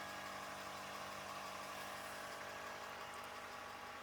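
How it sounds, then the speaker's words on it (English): A fuel pump hums steadily inside a RAM 3500 pickup with the tank under half full, a continuous low mechanical drone with faint tonal whine, constant level throughout, no voices. "Since the fuel tank is less than a half a tank, it's pumping fuel."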